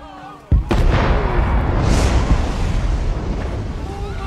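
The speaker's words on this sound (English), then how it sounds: "That's the actual explosion from the Batman." A massive explosion in The Penguin television episode hits with a sudden loud boom, then a dense rumbling roar that sustains for several seconds while reaction voices talk over it.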